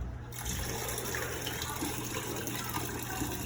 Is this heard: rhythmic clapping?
no